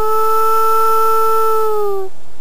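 A person imitates a wolf howl with their voice: one long, loud, steady sung note that holds, then slides slightly downward and cuts off, with no talking.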